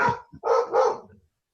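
A female dog gives three sharp, loud barks close by in quick succession, then falls silent.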